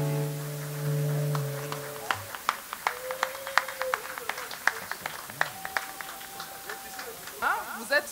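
Scattered, uneven claps from an evening event audience at the 2022 Linga Congo gathering as Lucie Mukendi walks onto the stage, breaking in after a sustained tone, with voices murmuring underneath.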